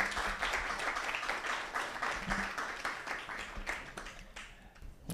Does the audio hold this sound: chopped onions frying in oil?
no